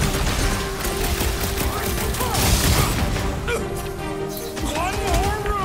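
Blasting gunfire and energy shots in the Guardians of the Galaxy video game, a dense, chaotic barrage of blasts and impacts mixed with game effects and voices talking over the action.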